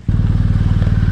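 Motorcycle pushed along on foot and set onto its stand, with a steady low engine idle chugging throughout, loud and close, plus a faint knock as it settles.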